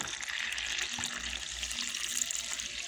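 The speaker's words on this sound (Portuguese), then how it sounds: "agora a gente vai colocar o líquido" About 500 ml of water poured from a cup into a homemade sesame bread dough mixture, a close, steady splashing stream with no voices over it.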